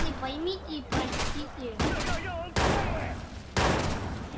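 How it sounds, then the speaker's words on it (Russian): Shotgun blasts in the Watch Dogs video game: four loud, sharp booms spaced roughly a second apart, with game speech and voices heard between the shots. "С дробовика шмаляют."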